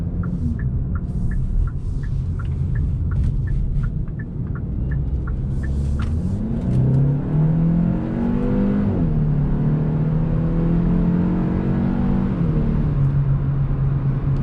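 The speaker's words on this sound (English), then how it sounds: "we're gonna go ahead and take this Hyundai Elantra on the highway to see how it does" A 2021 Hyundai Elantra N Line accelerates on a highway, its engine note rising steadily in pitch through a gear change and climbing again over constant road and wind rumble, heard from inside the cabin.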